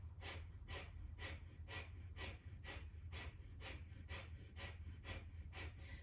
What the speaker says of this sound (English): continue with the breath of fire